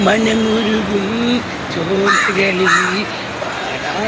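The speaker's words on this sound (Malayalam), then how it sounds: "പാട്ട് കേട്ടിട്ട് കാക്ക കരഞ്ഞിട്ട് പോയി." A crow caws a few times in the middle distance while a woman sings a Malayalam song loudly in the foreground, the harsh calls partly buried under her voice.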